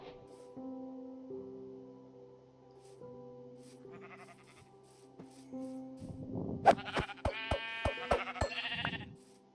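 Sheep bleating in the Minecraft hardcore survival game: a run of short, close bleats in the second half of the clip, layered over soft background game music.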